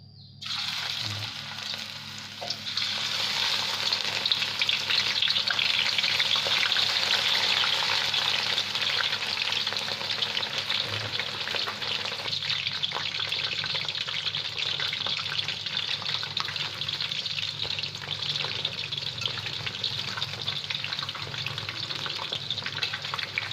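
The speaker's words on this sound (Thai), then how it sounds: "น้ำมันร้อนแล้วนำเห็ดลงได้เลยนะครับ" Fresh mushrooms frying in hot oil over medium heat give a loud, steady sizzle with a bright crackling hiss, beginning with a sharp burst as they go in and continuing evenly throughout with no talking.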